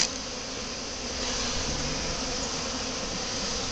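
A dense, steady buzzing of many honeybees around a hive close by, continuous and fairly loud with no talking.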